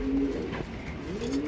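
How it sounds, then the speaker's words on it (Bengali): A pair of large English Nun pigeons coos close by, giving two soft, low throaty coos, one at the start and one at the end, with quiet background noise. "এক পেয়ার ইংলিশ নান, টপ ক্লাস কোয়ালিটি"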